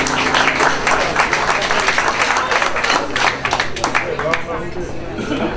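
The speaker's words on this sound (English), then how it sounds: "give her another round of applause" A crowd at a congressional campaign event claps in sustained applause, dense and loud throughout and thinning slightly toward the end, with voices mixed in.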